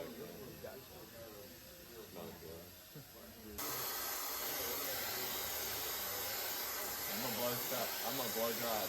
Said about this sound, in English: I'm gonna blow dry it back, and then we'll style it up